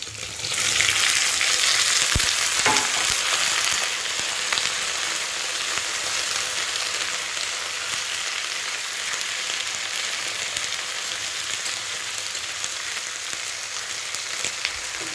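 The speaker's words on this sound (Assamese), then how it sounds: "এতিয়া মই কাটি লোৱা এয়া চব্জিখিনি এতিয়া ভাজি আছোঁ" Chopped vegetables frying in a wok after onions, a loud, dense, continuous sizzle close by with a couple of brief clicks near the start.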